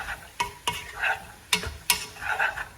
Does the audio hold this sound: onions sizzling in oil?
yes